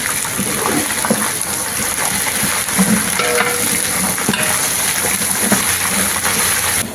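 Onion, ginger and garlic frying in hot oil, a loud steady sizzle with stirring scrapes and spattering bursts, close up and without speech.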